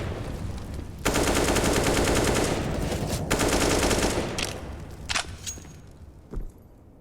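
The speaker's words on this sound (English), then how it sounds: "Two magazines of bullets pumped out of Valda's AK into the hut" AK rifle fire in Counter-Strike on the Nuke map during a pro league match: two long sustained bursts of rapid automatic shots, loud and continuous, then a few scattered shots fading out.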